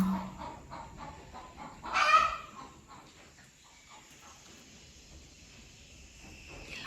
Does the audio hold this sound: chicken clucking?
yes